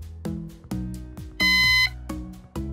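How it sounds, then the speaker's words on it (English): Synology NAS unit giving a single clear electronic beep of about half a second while its power button is held, rising loud and steady over soft musical tones. "long press the power button on your NAS till you hear a beep."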